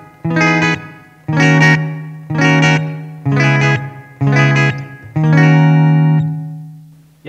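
Clean electric guitar through a VOX Pathfinder 10 amp with reverb added, playing six ringing chords in a steady rhythm, each with a reverb tail that lingers after the final strum; no voices.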